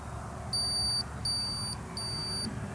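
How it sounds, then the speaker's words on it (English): Three sustained high-pitched electronic beeps from digital calipers sound in an even sequence, each about half a second long, over a low steady hum. "These 3 loud beeps alert me that a new session has been created."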